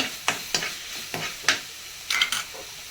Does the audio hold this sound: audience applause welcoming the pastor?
no